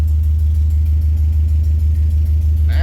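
An old rescued Suzuki engine idles in a steady, slightly uneven low rumble with a faint ticking clatter, a misfire code showing, loud and close for the whole stretch with no talk.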